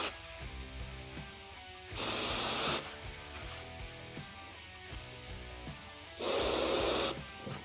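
Two short bursts of spray paint give a light dusting, each a loud steady hiss lasting about a second, heard alone over quiet background music.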